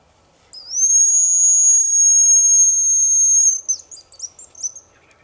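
A hazel grouse hen calls in a quiet forest: one long, thin, high whistle held for about three seconds, followed by a few brief twittering notes, with no talk.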